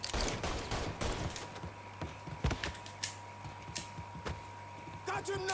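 Bursts of gunfire in Mafia III crack out in scattered volleys, some sharp single shots and some rapid clusters, set against a steady low game hum, with voices talking at times.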